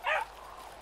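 In the video game Yonder, a dog-like creature gives a single short, faint bark or yip.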